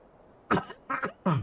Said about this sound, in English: I still have a little cough.